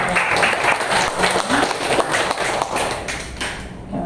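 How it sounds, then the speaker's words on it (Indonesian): An audience applauds at a school presentation event, with dense, sustained clapping from many hands close by that fades slightly toward the end. "Jadi kita berikan aplaus."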